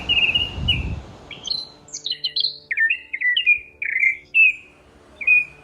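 Birds sing in mountain forest at dawn on the trek from Ransi village to Madhyamaheshwar, a string of clear high chirps and whistled phrases, close and bright, following a brief low thump at the start.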